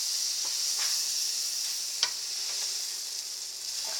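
A buttered grilled cheese sandwich sizzles steadily in a hot pan, a constant bright frying hiss with a few small pops and crackles throughout, close and with no talking.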